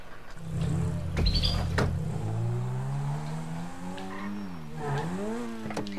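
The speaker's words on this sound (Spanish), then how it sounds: "Voy a quitar el coche de aquí" A car engine in GTA V Online drones and shifts pitch as it revs up and down, with brief sharp clicks, steady and fairly close, no talking.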